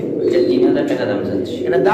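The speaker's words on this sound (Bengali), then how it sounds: "পিছনে একটা নর কবুতর" Low, rolling coos from pigeons, including a male, run steadily through the clip, with a person's voice mixed in over them.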